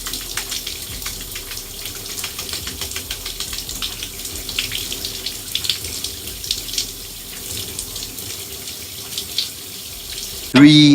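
Cold water runs steadily from a shower or tap while hair is rinsed under a do-rag, a continuous hissing splash with small fluctuations, ending in a brief louder burst of sound.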